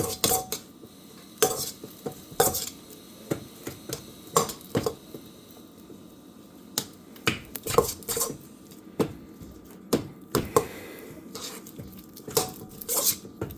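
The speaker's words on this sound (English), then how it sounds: "So I'm going to go ahead and cream my butter." Butter being creamed by hand for an orange cake, with scattered clinks and scrapes of a utensil against a bowl at an irregular pace, fairly close and moderately quiet, no talking.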